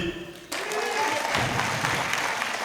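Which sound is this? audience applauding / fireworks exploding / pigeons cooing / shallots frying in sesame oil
audience applauding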